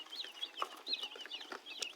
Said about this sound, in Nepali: चल्ला